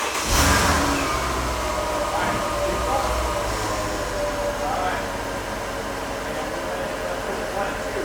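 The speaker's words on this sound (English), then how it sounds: "start the car then, if you can." A Mercedes S-class engine starts and revs with a sharp burst at the outset, then settles into a steady, loud running drone with mechanical hum, while people talk nearby.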